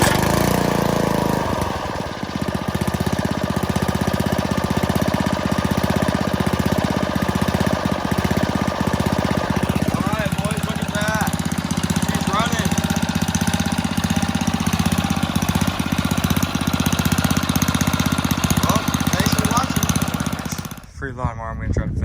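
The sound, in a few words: 5 horsepower MTD 21-inch lawn mower engine running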